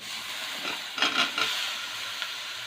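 Chopped cauliflower and potato are tipped into hot oil in a frying pan, setting off a cluster of sharp sizzling bursts over a soft steady hiss before settling back.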